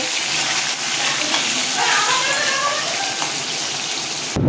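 Bata fish are released back into water, a steady watery splashing and rushing close by that runs without a break and cuts off abruptly at the end.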